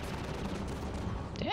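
Gunfire in Half-Life 2, a steady dense barrage of shots running the whole moment, loud and close, with a brief voice near the end.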